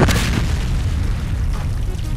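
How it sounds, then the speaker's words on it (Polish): Fireworks exploding in the video game Garry's Mod, a loud continuous rumble of booms and crackling bursts that fills the whole moment, with a faint voice underneath. "Fajerwerki."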